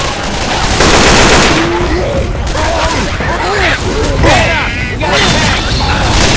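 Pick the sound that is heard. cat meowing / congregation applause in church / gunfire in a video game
gunfire in a video game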